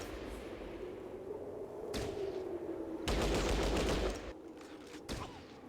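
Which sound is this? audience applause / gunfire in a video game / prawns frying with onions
gunfire in a video game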